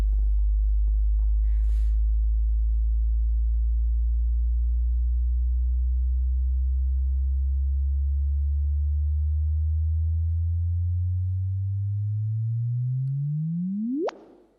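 A sonified gravitational-wave signal from two merging compact objects of around a few solar masses: a low, steady sine-like hum that slowly rises in pitch, then sweeps sharply upward into a brief chirp at the end, heard alone.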